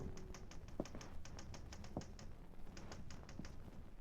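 Rapid bursts of typewriter-style keystrokes in a radio drama, clusters of crisp taps with brief pauses between runs, close and clear, with a faint room hum and no speech.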